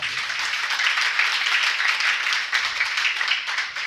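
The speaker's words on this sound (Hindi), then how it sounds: "तो इस प्यारे प्यारे अध्यक्ष के लिए जोरदार ताली बजाओ" An audience claps for a young president at a religious discourse gathering, with dense, even applause from many hands held at a steady level across the whole stretch and no talk over it.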